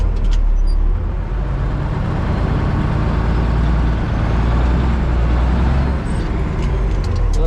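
A heavily loaded farm truck hauling manure strains on a hill, its engine a loud, steady low roar with rumbling wheel spin throughout and no let-up, close by.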